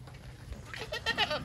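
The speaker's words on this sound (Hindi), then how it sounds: "चलो मस्ती कर रहे हैं सारे नए बकरे जो आए ना।" Goats and a dumba sheep bleat in short bursts, several overlapping cries in the second half at moderate distance over a faint low background.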